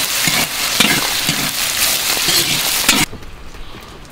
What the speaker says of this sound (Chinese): 起锅烧油，然后加 入白糖